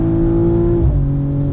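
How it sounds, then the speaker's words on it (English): A BMW M440i Gran Coupe's B58 inline six-cylinder engine pulls loud and close at high revs, holding a steady tone before dropping pitch at an upshift and pulling on again. "They've really done a good job retaining that unbelievable B58 inline 6-cylinder mid-range grunt up top."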